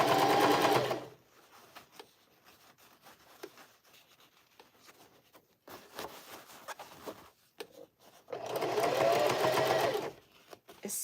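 A sewing machine stitches a denim bucket hat in circular seams, two steady whirring runs at the start and end separated by quieter handling and fabric rustle, close by.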